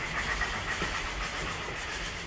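White Pass steam locomotive exhaust heard from a following train car: a steady, loud mechanical rumble with broad hiss and faint rhythmic chuffing pulses over the running noise, no voices.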